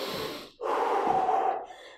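Heavy workout breathing during an active recovery break in a beginner HIIT session, a long noisy exhale and then a strong sustained breath, close and loud with no talking.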